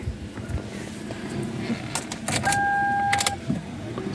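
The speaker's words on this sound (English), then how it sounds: "So we start the car" A 2007-2011 Toyota Camry being started after key programming, with keys jangling, a short cranking burst and the engine catching, followed by quiet idle in a workshop.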